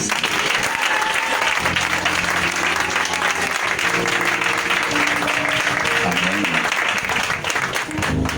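A church congregation applauds loudly and steadily throughout, a dense sustained wash of many hands clapping, close and full, with cheering voices and faint tonal sound mixed underneath.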